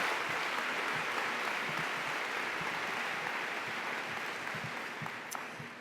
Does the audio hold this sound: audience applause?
yes